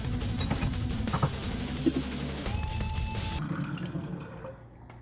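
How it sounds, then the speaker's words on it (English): Water kefir pouring steadily into bottles, a continuous splashing gurgle with a rising tone as a bottle fills, close up. "Pour them. Fill those bottles up."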